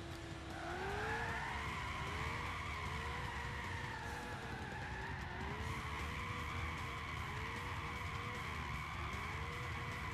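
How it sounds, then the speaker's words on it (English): Tires skid and squeal without letup as a 1965 Shelby GT350 drifts in Gran Turismo 6, the pitch rising and falling in waves over a loud, steady engine drone. "It's spinning right around you and you're not getting a good drift."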